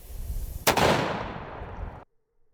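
Medieval hand cannon firing a 900 grain lead ball: a single loud, sharp blast after a second of rustling, followed by a long rolling rumble that fades out before sudden quiet.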